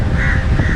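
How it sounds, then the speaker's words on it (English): Crows caw loudly and close by on a windy rocky outcrop in Mirissa, Sri Lanka, a harsh call over strong wind rumble. "The wind was strong and the crows were trying to protect their territory by making loud sounds."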